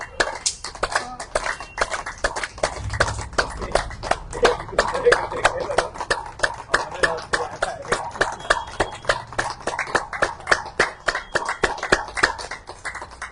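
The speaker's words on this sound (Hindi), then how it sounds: "अब ताली।" A group claps hands during a laughter yoga session, a long run of sharp, fast, fairly loud claps in steady rhythm mixed with laughter and voices.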